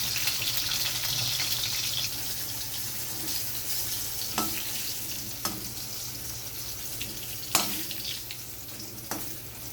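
Cut green banana and pointed gourd fry in oil with a steady, close sizzle, broken by a few sharp clinks of a utensil against the pan.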